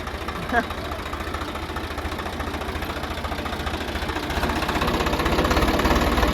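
A tractor engine runs steadily, a low, even chugging idle with a faint knocking rhythm that builds slightly in loudness toward the end, with a voice speaking over it.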